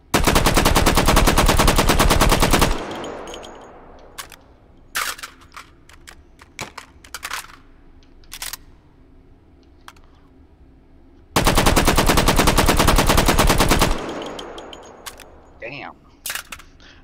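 A machine gun fires in the VR shooter game H3VR, two loud sustained bursts of rapid automatic fire, each a few seconds long, with scattered clicks and clatter of handling between them.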